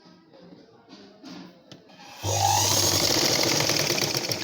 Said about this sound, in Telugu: ఎండింగ్ ఎప్పుడు కూడా మనకి వెనక్కి ముందుకు స్టిచ్ చేసుకోవాలి